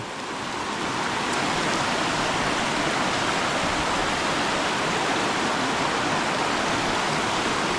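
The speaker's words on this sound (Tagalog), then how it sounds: "inabutan na po kami ng napakalas na ulan" Heavy rain pours down steadily in a forest, a dense, loud hiss of drops filling the air without pause from start to finish.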